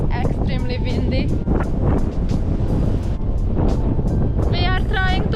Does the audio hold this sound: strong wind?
yes